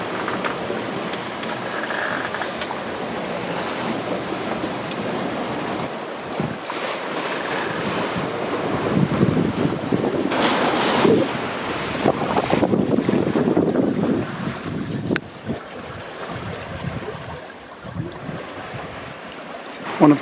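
Sailboat under genoa and main running briskly along the Firth of Forth coast toward Peterhead, with steady wind buffeting the microphone and water rushing and splashing against the hull throughout, no talk.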